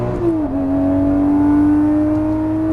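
A Lamborghini Murciélago on a race track, its engine loud and close, pitch dropping sharply at a gear shift and then climbing steadily under hard acceleration.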